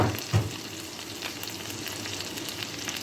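One tablespoon of butter melts in a pan with a soft, even sizzle, fairly quiet and close, opened by a brief clunk and otherwise running steadily without any talk.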